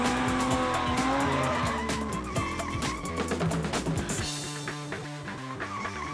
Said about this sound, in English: You can hear the tire spinning.